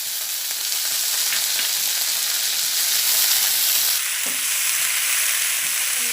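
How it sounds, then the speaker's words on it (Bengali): Chopped tomato fries in a hot pan with oil, a steady close sizzle and crackle with faint stirring clicks and no talk. "টমেটো দিয়ে ভালো করে কষিয়ে নেব।"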